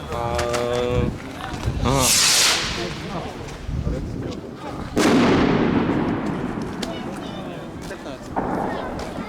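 A 30-calibre, 48-shot fireworks cake fires at a New Year's Eve gathering, its loud sharp bangs crackling in rapid bursts with sizzling tails, while people shout and talk nearby.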